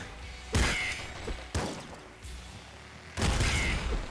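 Repeated loud explosions in the top-down shooter Nuclear Throne, three heavy blasts with a burst of crackle, the first and last longer and broadband, alone with no talk.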